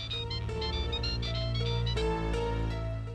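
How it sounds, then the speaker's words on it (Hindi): A mobile phone ringtone plays a bright, repeating electronic melody, steady and moderately loud, with no talking over it. "ऋषि का ही फोन है।"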